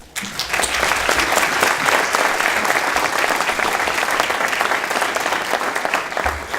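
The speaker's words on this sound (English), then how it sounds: "Big round of applause for Greg Hamilton." A crowd gathered for a victims' event gives the Travis County sheriff a loud, sustained round of applause that rises quickly and holds steady as dense clapping throughout.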